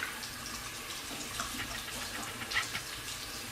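Running tap water splashes steadily into a sink while a makeup brush is rinsed against a hand, giving a soft continuous patter with small irregular splashes, close but fairly quiet, with no talking.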